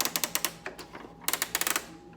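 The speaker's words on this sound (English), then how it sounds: "it'll make like a clicking noise like this." Spinning part on a 1979 Kenner Millennium Falcon toy turning with rapid plastic ratchet clicks, close and crisp, in two bursts of quick regular ticks separated by a slower patch, no talking.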